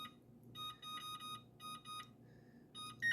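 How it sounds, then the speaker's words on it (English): Kitchen oven timer emitting a series of short electronic beeps in quick bursts while being set for baking a sourdough loaf, fairly faint over a low room hum, with pauses between beep groups. "I'm going to set my timer for 30 minutes this time."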